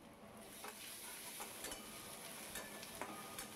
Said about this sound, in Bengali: এবার ভালো করে ওপর নিচ নাড়াচাড়া করে নিয়ে এটাকে গোল্ডেন ব্রাউন করে মতন ভেজে নেব।